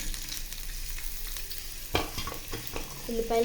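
Onions fry in hot oil with a close, bubbling sizzle, broken by clattering stirring strokes around the middle and toward the end.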